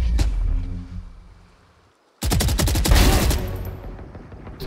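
Video game gunfire: a first burst of shots fades out, a moment of near silence follows, then a loud, dense volley of rapid automatic fire that slowly tapers.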